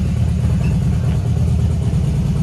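A motorbike engine running steadily close by, a low continuous rumble with no noticeable revving, loud and alone without talk.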